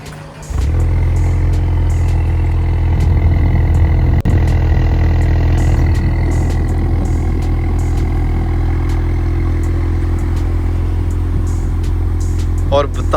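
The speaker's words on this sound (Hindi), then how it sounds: "मैंने सोचा कि यार आपको ना कोल्ड स्टार्ट दिखा देते हैं गाड़ी का, दिखा नहीं देते सुना देते हैं एग्जॉस्ट" Ford Mustang with an MBRP custom exhaust cold-starting with a turbo whistle: the engine catches within the first second, then holds a loud, steady, deep idle rumble close by for the rest of the clip.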